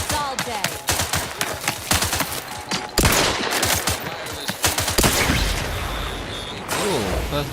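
Rapid bursts of gunfire from The Outer Worlds 2, dense volleys of sharp shots that crack close and loud for the full stretch, with a few heavier impacts mixed in.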